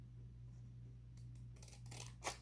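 Scissors snip through scrap paper during paper-bag making, a few quick crisp cuts near the end over a steady low hum.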